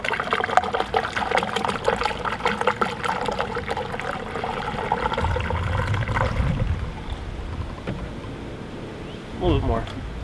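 Still water poured from a container while prepping a Mitsubishi Evo for a car show, a steady close trickling stream that tapers off near the end, with a voice talking over it.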